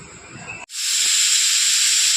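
A kitchen pressure cooker cooking dal lets out a loud, sustained high steam whistle that starts abruptly and holds steady, close and alone.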